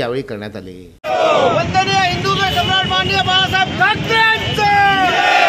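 Protesters from the Thackeray faction, holding a poster caricaturing Devendra Fadnavis and Rahul Narwekar, loudly shout slogans together as a dense, sustained crowd chant close by. A brief spoken voice comes before it.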